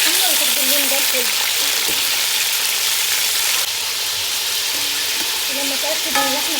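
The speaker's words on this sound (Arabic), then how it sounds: "اول ما احس ان اللحمه اتحمرت كده الناحيه اللي تحت هقلبها على الناحيه الثانيه علشان برضه تتحمر" Pieces of meat for pot kebab fry loudly in a pan after being turned, with a strong, continuous sizzle up close. Occasional scraping and clinks of a utensil sound over it.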